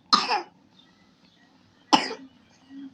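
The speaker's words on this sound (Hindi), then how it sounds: "इसको खांसी नहीं छोड़ रहा है बिल्कुल" A girl coughs twice in separate harsh bursts about two seconds apart, close by in a quiet room, with a faint throaty sound after the second cough.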